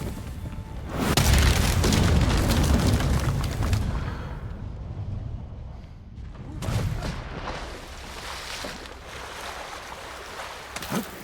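A loud explosion goes off in Ghost of Tsushima: a deep, roaring blast that swells and rumbles for several seconds, fades, then gives way to a second, smaller burst of crackling debris and rumble.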